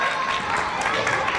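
Audience applause for Auguste, a dense wash of clapping that fills the whole moment at steady, fairly loud level, with some murmuring mixed in.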